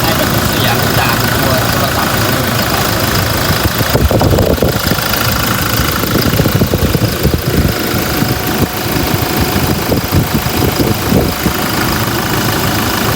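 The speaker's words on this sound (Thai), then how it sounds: "ตอนนี้ผมให้ฟังเสียงเครื่องยนต์ดูนะครับเครื่องยนต์เดินเรียบเด ินนิ่งนะ" A 2022 Toyota Hilux Revo Prerunner 2.4 automatic pickup engine idles steadily and smoothly up close, a low continuous rumble with faint mechanical ticking and no change in revs.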